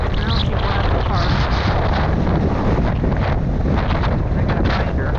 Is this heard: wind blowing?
yes